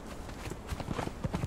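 A horse's hooves clop in the Conan Exiles video game, a short run of fairly quiet, irregular hoofbeats on the ground.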